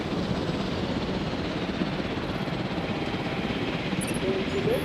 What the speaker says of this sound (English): Oh, the helicopter's back.